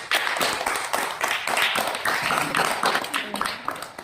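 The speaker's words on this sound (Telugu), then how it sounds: "క్లాప్స్ కొట్టండి అమ్మాయికి." A classroom of schoolchildren claps for a girl, a burst of many overlapping hand claps at close range that runs the whole time, with some voices mixed in.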